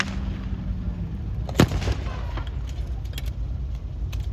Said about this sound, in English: There goes the big gun again.